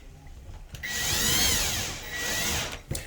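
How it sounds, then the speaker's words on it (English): A power driver runs screws into an old door with a worn lock, two sustained whirring bursts with rising and falling pitch separated by a short pause, close and loud with no talk. "So now when I screw this all in,"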